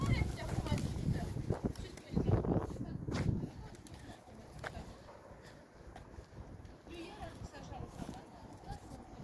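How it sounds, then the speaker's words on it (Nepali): Pigeons coo outdoors in Chisinau, soft and intermittent, mixed with wind and people talking nearby. "टन्न छ यहाँ परेवाहरू"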